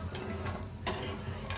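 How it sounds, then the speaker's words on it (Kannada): Ripe red chillies frying in a pan for chutney, a steady close sizzle broken by a few scraping stirs of the spoon. "ಸ್ವಲ್ಪ ಹಣ್ಣು ಮೆಣಸಿನಕಾಯಿ ಫ್ರೈ ಮಾಡ್ತಾ ಇದ್ದೇನೆ."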